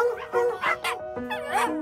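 Rescued stray puppies packed into a transport vehicle yip, bark and whimper in quick overlapping bursts, close and fairly loud, with high whining cries between the barks.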